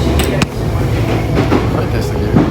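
A first-time passenger rides inside a moving train: a steady, loud rumble of wheels and carriage with faint rhythmic knocks and brief clatters, while voices murmur quietly underneath.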